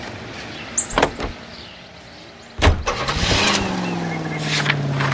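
A car in the 1940s Los Angeles crime game L.A. Noire gives a few near door clunks and thuds, then the engine starts and settles into a low steady idle.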